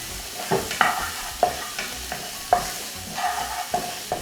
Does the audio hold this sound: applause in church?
no